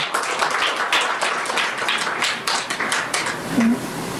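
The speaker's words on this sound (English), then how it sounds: "Give yourselves a round of applause." Steady audience applause at an essay writing competition prize ceremony in Penal/Debe, Trinidad, dense continuous clapping lasting several seconds, fairly loud and close.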